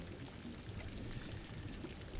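Water flooding a submarine in the Silent Hunter 3 video game, a continuous rushing, pouring stream that holds steady throughout, fairly faint and with no talk.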